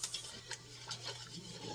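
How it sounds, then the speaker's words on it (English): Whisk scraping and clinking rhythmically against a pan while stirring gravy, quiet close strokes with a faint sizzle underneath. "let me go ahead and finish whisking this"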